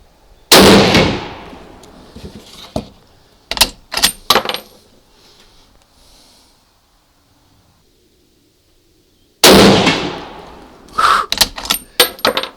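Loud, sharp gunshots from a MAS 36 bolt-action rifle fired in the dark, two main blasts several seconds apart, each followed by a cluster of quick mechanical clacks from the bolt being worked.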